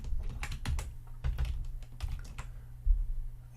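Code is typed on a computer keyboard in quick, irregular bursts of crisp key clicks with short pauses, close and fairly quiet, with no talking.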